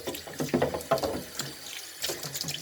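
Tap water runs over catfish being washed in a kitchen sink for okra pepper soup, with splashy, uneven bursts of water and handling noises, fairly faint and close, with no talk.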